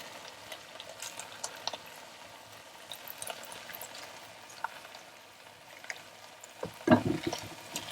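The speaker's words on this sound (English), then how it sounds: "I'm just going to stir that" Paella sizzles softly in a pan after a squeeze of lemon juice, a faint, steady crackle with a louder stirring scrape near the end and no talking.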